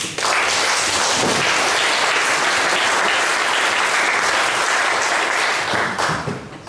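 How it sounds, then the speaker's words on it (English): Sustained applause from a large audience, steady and loud throughout, tapering off near the end. "So yes, a big applause to you too."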